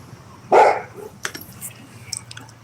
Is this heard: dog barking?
yes